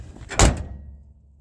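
A car door, its inside partly lined, closes with a single dull thunk, followed by a quick fade to quiet.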